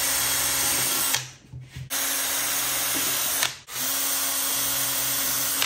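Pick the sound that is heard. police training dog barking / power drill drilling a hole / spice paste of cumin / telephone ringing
power drill drilling a hole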